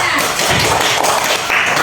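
Classroom of students clapping for a classmate, a dense, steady patter of hand claps filling the short moment, with faint voices mixed in.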